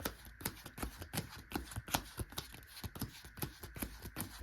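Rapid riffling clicks of trading-game cards being power shuffled, close up, in quick bursts with brief pauses and no talking.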